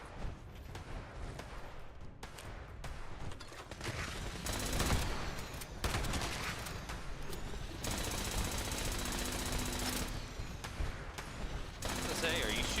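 Gunfire in Fallout 76, sustained rapid automatic bursts that are loud and dense with brief gaps between volleys. Voices talk over the shooting.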